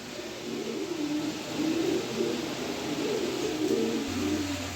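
Yellow Danish pigeons, all hens, coo in low repeated rolling calls, close and steady throughout over faint background hiss, with no talk.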